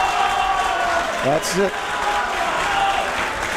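A crowd applauds at a junior left-arm wrestling final at EuroArm 2025, a continuous wash of clapping and cheering under a man's brief spoken remark.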